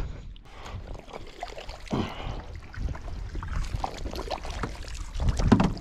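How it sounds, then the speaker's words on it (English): Canoe paddled through thick mud on the way to Adams Lake: irregular sloshing, sucking and dripping strokes up close, with wet splashes and gurgles throughout, no voices. "Let me show you what it's like to paddle mud."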